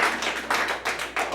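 An audience at a stand-up comedy club claps in a short burst: a few hands beat in a fairly steady rhythm, about four or five distinct claps, close and moderately loud, with no talking.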